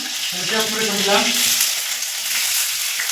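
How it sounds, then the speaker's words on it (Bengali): Onion and chili fry in hot oil in a pan, giving a continuous hissing sizzle with a brief stir near the start, close and steady, while a voice speaks softly beneath. "পেঁয়াজ মশলা সব ফ্রাই হয়ে গেছে"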